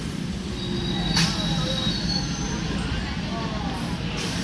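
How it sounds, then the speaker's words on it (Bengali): A local train heading toward Bandel junction rolls past with a steady rumble, and brief wheel squeals and screeches rise over it; a voice talks beneath. "ব্যান্ডেল রেলওয়ে জংশন অভিমুখে যাচ্ছে। ট্রেনটির কম্পার্টমেন্টের গায়ে বিজ্ঞাপন থাকায় ট্রেনটিকে অতি চমৎকার লাগছে।"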